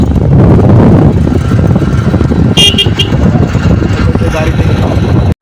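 A motorbike ridden along a road toward Bagerhat, its engine droning loudly under heavy wind buffeting, with a brief high horn toot midway before the sound cuts off abruptly.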